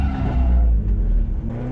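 A Toyota Corolla AE86 accelerates hard on a steep bank, its engine revving loudly and steadily close by for nearly two seconds, with a strong low rumble and no voices.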